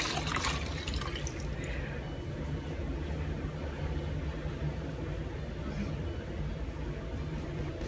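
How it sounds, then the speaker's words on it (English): Tap water runs steadily while a face is rinsed clean during a skincare routine, a continuous close splashing stream with a few drips, and a voice speaks briefly over it. "I rinse this off."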